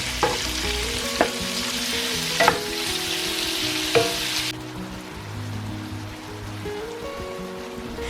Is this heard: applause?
no